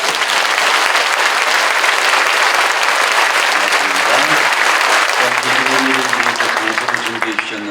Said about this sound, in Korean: 우리 하나님께 감사의 영광의 박수 올리겠습니다